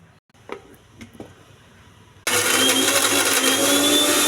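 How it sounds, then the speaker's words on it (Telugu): A mixer grinder blending mint chutney with coconut, roasted gram, dried red chillies and salt starts up abruptly after a few faint clicks, then runs as a loud, steady, close whirring roar to the end. "కొంచెం ఉప్పు, మిక్సీ వేసుకోవాలండి."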